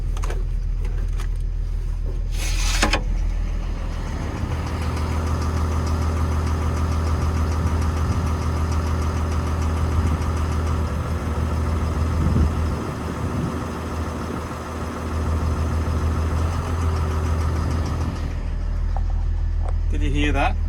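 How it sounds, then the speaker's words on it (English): A Doosan DX225 excavator's diesel engine idles steadily up close, with a rhythmic knock from a faulty number 1 injector running through the drone for about twenty seconds; brief clatter at the start. "that knocking noise disappears."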